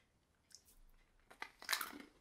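Crunchy wasabi-flavored Japanese candy being chewed, a few faint, close, brittle crunches that build to a sharper bite near the end, in quiet surroundings.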